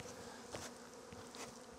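Honey bees fanning at the entrance of a small queen bank nuc hive, a soft continuous buzzing drone with a few brief louder passes, faint and close.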